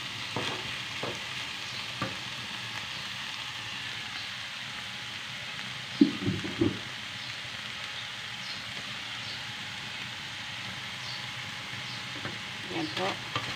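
Ground meat frying in a pan while being stirred, a soft continuous sizzle like light rain with a few brief clatters of the utensil against the pan partway through.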